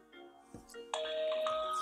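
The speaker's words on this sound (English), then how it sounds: "got the ding dong sound." A Tenvis TH661 budget security camera plays its brief ding-dong startup chime, a clear two-tone electronic signal indoors, followed by a sustained ringing tone.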